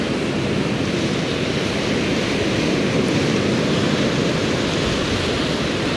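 Steady, continuous roar of ocean surf washing over dark rocks, loud and close, with no pauses or voices.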